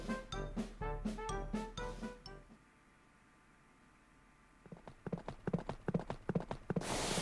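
Hooves of Rocinante, Don Quixote's horse in the Fate/Grand Order video game, clip-clop in a quick, close run of sharp beats, then go quiet for a couple of seconds before a second, fainter stretch of regular steps resumes.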